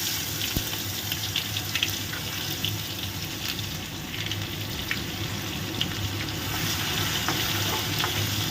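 Chopped tomato and onion fry in hot oil with nigella seeds for a fish curry, giving a continuous even sizzle with occasional stirring scrapes and light clicks throughout.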